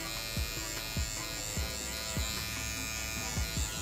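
An electric hair clipper buzzes steadily while cleaning up the neckline at the end of a fade haircut, its close, even drone broken by a regular series of short clicking strokes about every half second.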